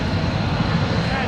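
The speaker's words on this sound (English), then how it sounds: "Vintage aircraft next off your left" A vintage propeller airplane flies past at the Hill Air Force Base air show, its engine a loud, continuous rumbling drone while an announcer talks over it.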